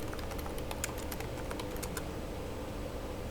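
A computer keyboard is pressed in a quiet room, a run of light, quick clicks in an uneven rhythm that stops partway, faint over a steady background hiss.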